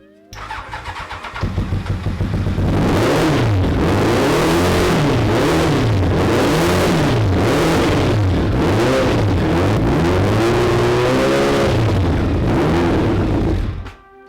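A Roketa go-kart engine with gummed-up carburetors cranks, catches and runs loudly, its revs rising and falling in repeated surges that sound uneven, as if sputtering.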